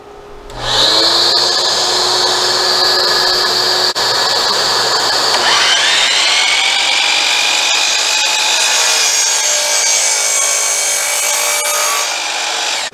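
Power saw slicing a splayed angle through wood for a deck table leg, a loud continuous whining cut that shifts pitch partway through and runs steadily for over ten seconds, close and dominant.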